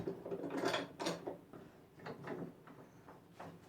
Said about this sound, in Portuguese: prende com o sargento de um lado e do outro